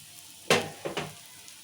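A wheat flour dosa roasting on a hot pan gives two brief hissing sizzles, the first louder, close by, in an otherwise quiet kitchen.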